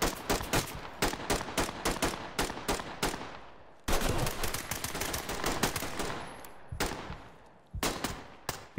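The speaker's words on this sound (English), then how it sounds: "Give him suppressive fire." Bursts of suppressive gunfire in the tactical shooter Ready or Not, rapid automatic volleys crackling in dense, loud runs with brief pauses between strings of shots.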